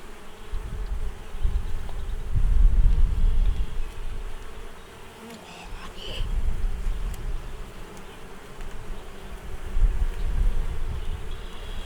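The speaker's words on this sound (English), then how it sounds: "Oh, that's bees." Honey bees buzz steadily in a dense swarm around an open hive during inspection, the hum swelling and fading in waves as they move close around the hive.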